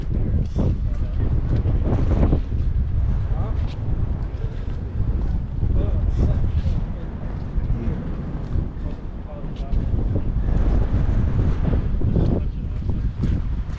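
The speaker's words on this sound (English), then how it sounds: "It's so windy on the dam." Strong wind roars against the microphone nonstop on Hoover Dam, loud and blustery with swelling gusts.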